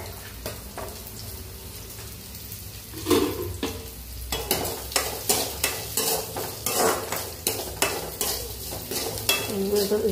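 Ginger and onion frying in a pan for a fish curry, a steady sizzle broken by a run of rhythmic scraping stirs with a spoon, close and fairly loud, no talk.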